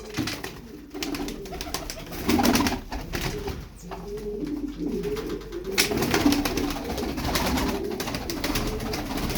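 Several pigeons, purebred Limoni play pigeons, cooing in soft, repeated low calls, close by, with a little rustling and shuffling between the coos.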